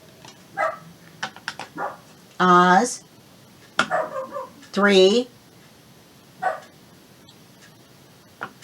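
A dog barks in sharp, loud bursts, a pair of strong barks standing out among shorter yips, with someone speaking in between while working on an inked paper envelope craft.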